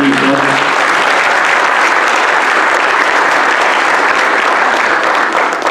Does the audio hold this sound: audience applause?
yes